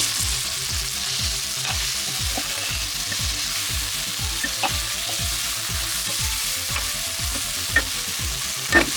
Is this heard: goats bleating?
no